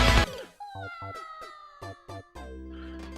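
A cartoonish cat meow sounds in a modded Super Mario 3D World game, mixed with bright chiming game tones and short musical notes, clear and close with no speech.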